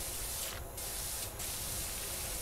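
Water blasting from a power washer nozzle in the Power Wash Simulator video game, a continuous hissing spray with two brief dips in the high hiss, heard alone and fairly quiet.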